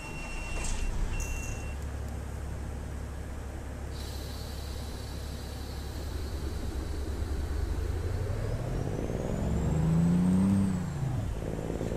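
A Cummins-powered Kenworth T660 truck in American Truck Simulator, paired with an Eaton Fuller transmission, rumbles steadily in a loud continuous low drone, then revs up near the end with a rising pitch sweep before easing back.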